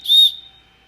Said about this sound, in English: This is a good whistle if you're in trouble or whatever, or if it's just something that is fun to play with.